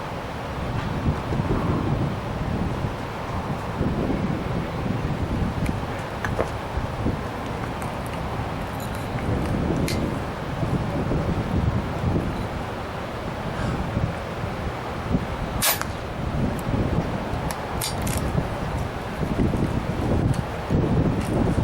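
Steady outdoor wind buffeting the microphone for the whole stretch, a continuous close rumble and rush with faint rustling and a few brief clicks, no talking.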